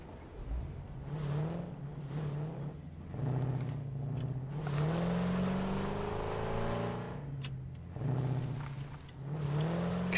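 A car in the video game Satisfactory drives off and accelerates, its engine rising and falling in pitch through several surges and revs, fairly close and steady, with no talking over it.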